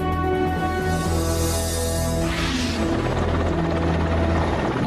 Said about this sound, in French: les hélicoptères de l'armée de l'air russe survolent les plaines du Kazakhstan